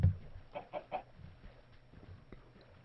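A Minecraft chicken gives a few short clucks in a quick burst, then fainter scattered clucks follow, fairly close and alone without talk.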